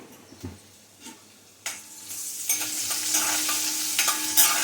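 Chopped garlic and green chillies, then onion, hit hot oil in a pan for potato bhaji, with a few clinks of a spoon at first and then a loud sizzle that swells and keeps crackling under steady stirring.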